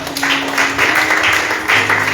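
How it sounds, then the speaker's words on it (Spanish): Audience applause in a church gathering, a dense clatter of clapping that rises and falls in waves over a faint background hum. "Denle un fuerte aplauso de verdad."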